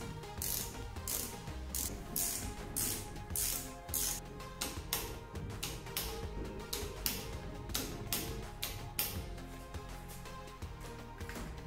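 Enduro e-bike wheel spinning freely, its freehub ratchet giving a fast, steady, even clicking that runs throughout, close and fairly quiet.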